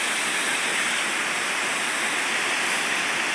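Water released through the gates of the Buggavanka dam roars in a loud, steady rushing wash, heard close and alone.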